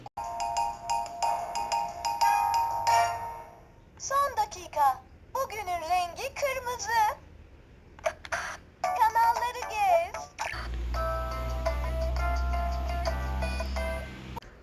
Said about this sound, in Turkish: İçerisinde 35'ten fazla ses kaydı var, müzik de çalıyor.